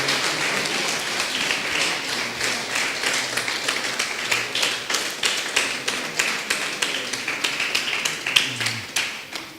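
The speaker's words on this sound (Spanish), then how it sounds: "Dale un fuerte aplauso al Señor." A church congregation claps, fading from dense applause into a steady rhythmic beat of many hands clapping in time, fairly close and clear.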